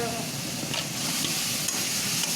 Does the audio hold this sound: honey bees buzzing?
no